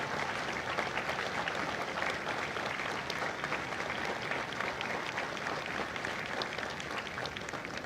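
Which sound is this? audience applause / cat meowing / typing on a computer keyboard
audience applause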